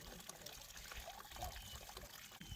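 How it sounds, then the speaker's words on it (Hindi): Water from a natural mountain source runs through a pipe at a campsite near Chopta, a soft steady trickling and splashing that is faint and continuous, with no voices. "ये देखिए पानी आ रहा है यहाँ पर। ये नेचुरल सोर्स से ऊपर से आ रहा है।"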